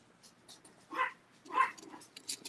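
Bindi, a tiny five-pound dog, gives two short sharp barks fairly close indoors, followed by a fainter yip, with quiet pauses in between.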